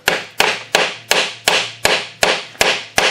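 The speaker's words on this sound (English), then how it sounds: "I've been hammering on this now for about 10 minutes" Steady metallic hammer blows strike a stuck motor part about three times per second, each sharp hit ringing briefly, close and loud with no talking.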